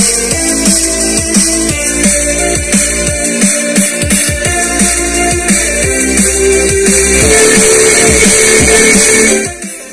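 Music plays loud at full volume through a stereo amplifier built around a 4440 IC, with a steady beat of low thumps and dense high content, ending with a short fade.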